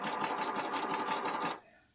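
A sewing machine stitches a lace bralette seam in a fast, even run of needle strokes, close and clear, stopping abruptly after about a second and a half.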